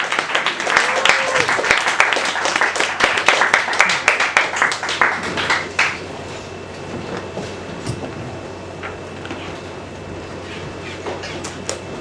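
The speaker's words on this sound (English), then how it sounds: "Let's have a big round of applause." Open mic audience breaks into loud applause that rises and fills the room for about six seconds, then drops off abruptly to a low room hum with a few scattered claps.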